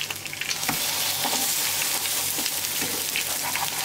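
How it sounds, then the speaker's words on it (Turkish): Food fries steadily in a small pan, a continuous close sizzle with occasional stirring scrapes and pops, no voices over it. "O tarafını da kızartacağım"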